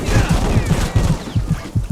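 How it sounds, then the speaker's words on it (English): Rapid machine gun fire in the Vietnam War video game Vietcong, close, loud, dense bursts of shots in quick succession with a rumbling low end and no pause over two seconds. "There's a machine gun out there, for sure."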